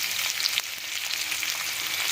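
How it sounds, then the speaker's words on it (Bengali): Chopped onions frying in mustard oil with nigella seeds in a wok, giving a steady, close hiss of sizzling throughout with no voices. "এখানে দেখতেই পাচ্ছ পেঁয়াজগুলোকে লাল লাল করে আমরা একটু ভাজা করে নিচ্ছি।"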